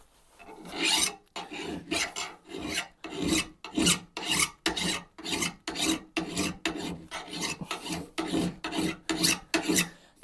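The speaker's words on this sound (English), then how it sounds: "And I usually like starting with a file." A metal file rasps repeatedly across an adze blade during hand sharpening, about twenty close, steady back-and-forth strokes with brief gaps between them, loud and alone.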